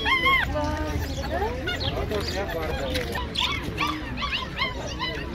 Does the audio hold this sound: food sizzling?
no